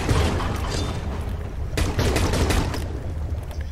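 Gunfire from a weapon in a shark video game, sounding as dense, continuous blasts that stay loud across the whole stretch with a few sharper bursts, no talk over it.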